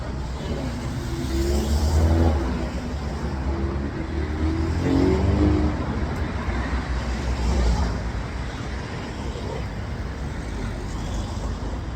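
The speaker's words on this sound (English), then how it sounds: "Do apologise for the traffic noise." Road traffic passes near a roundabout in continuous waves. Vehicles swell louder and fade at intervals over a steady roadway rumble.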